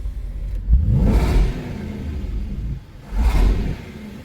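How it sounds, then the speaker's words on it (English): A supercharged Dodge Hellcat V8 SUV revs hard twice, its deep exhaust roar swelling and falling back to a rumbling idle between bursts, close and loud. "It's got a really loud exhaust."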